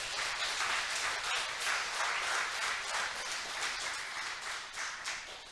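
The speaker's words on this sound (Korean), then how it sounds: "박수 한번 치겠습니다." A congregation at a Church of Christ Sunday worship service in Chuncheon gives a round of applause. The clapping is soft and distant but steady, a continuous patter lasting several seconds with no talking over it.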